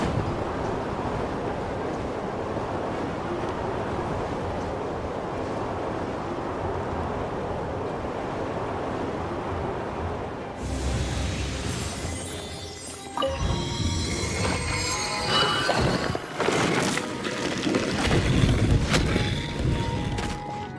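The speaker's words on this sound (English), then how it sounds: "Let's ride this wind current" A wind current in the video game Genshin Impact produces a steady whooshing rush of air, later joined by louder swirling gusts and layered game sounds, continuous and fairly loud with no talking.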